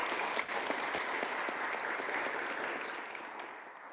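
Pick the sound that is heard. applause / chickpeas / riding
applause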